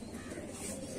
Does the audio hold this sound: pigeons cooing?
yes